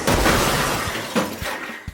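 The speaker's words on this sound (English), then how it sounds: "Then I crashed a plane into the boat." A toy plane crashes into a LEGO boat with a sharp shattering clatter of plastic pieces, a burst followed by a few smaller scattered knocks and tumbling bits, close and alone.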